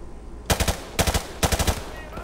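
Automatic weapons fire in Modern Warfare Remastered on the Charlie Don't Surf map comes in three loud, rapid bursts of several shots each, separated by short gaps.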